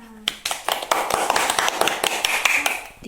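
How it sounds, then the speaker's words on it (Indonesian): Classroom children clap their hands together, a burst of quick uneven claps lasting about three seconds, close and lively, with a voice heard at the start. "Tepuk tangan untuk kita semua."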